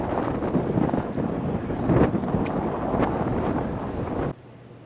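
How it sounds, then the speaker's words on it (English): Strong headwind buffets the microphone during a fat-bike ride along the sand near Pensacola, a loud, steady broadband roar with gusty swells that cuts off abruptly near the end. "Strong headwind."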